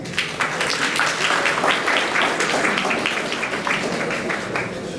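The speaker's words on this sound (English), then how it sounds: "Another round of applause." Sustained, dense applause from delegates filling a model UN general assembly hall during a closing-day session, an even wash of many hands clapping at moderate loudness.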